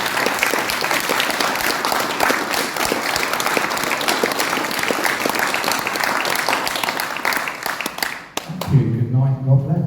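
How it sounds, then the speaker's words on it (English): A crowd at the Wellingborough 2024 general election hustings in Glamis Hall gives dense, steady applause for about eight seconds, then a voice speaks as the clapping stops. "Just give them a round of applause."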